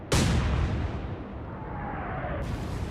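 A naval gun fires in the Atlantic Fleet naval warfare game, one loud deep boom that rolls out into a long fading rumble, followed by a whistling tone.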